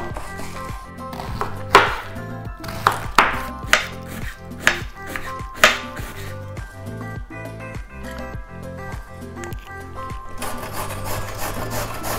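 A knife shreds cabbage on a cutting board, a run of crisp, fairly loud chops in an irregular rhythm close by, moving into quieter, denser cutting with background music.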